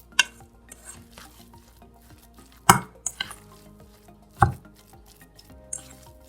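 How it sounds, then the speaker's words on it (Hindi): Mashed potato and spices being worked into dough by hand in a bowl: soft, squishy mixing with a couple of louder knocks against the bowl, set over quiet background music. "आलू को अच्छे से मिक्स करना है ताकि पूरे हमारे डो में ये अच्छे से मसाले"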